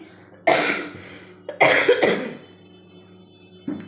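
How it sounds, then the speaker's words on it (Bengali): A woman with a lingering cough at home while cleaning out a fridge, giving two close, sharp coughing bursts with a quieter catch between them and near-silence around. "কাশিটা এখনও কমেনি"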